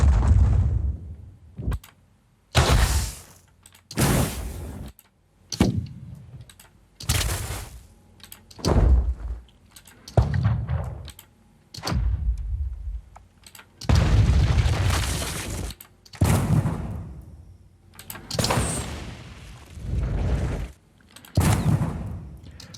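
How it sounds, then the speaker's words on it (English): AI-generated impact sounds with a slight wooden character play as a series of separate loud thumps and knocks, around a dozen hits spaced out with short silences between them. "we are closer to the impact sound of things, which some of them have slightly wood material in"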